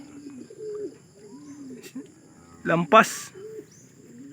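Pigeons in a racing loft coo softly in low repeated rolls throughout, with a couple of brief louder bursts of wingbeats or movement near the end and a short spoken word.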